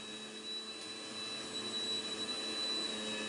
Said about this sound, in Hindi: इधर अंदर ग्राइंडर चल गया